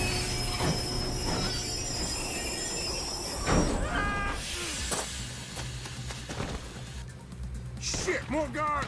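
Train running on rails in a video game shootout: continuous metallic rumble and wheel squeal with bursts of noise, while characters talk over it.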